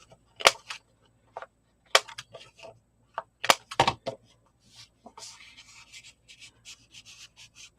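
A handheld corner rounder punches rounded corners on cut paper, giving several sharp, close snapping clicks spaced a second or two apart, followed by softer rustling of paper being handled.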